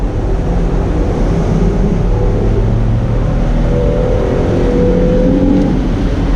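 A 2014 Mustang or 2015 Camaro convertible with a six-speed accelerating hard, a loud steady low engine roar that builds slightly, mixed with strong wind noise and no voices.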